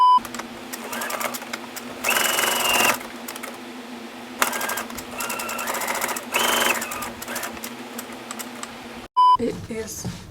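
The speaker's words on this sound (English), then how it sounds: "I'm going to sew a line right here and right here" A sewing machine stitches lines on a tank top, running in several bursts of fast, rattling stitching with pauses between them. It is close and loud, with a brief beep near the end.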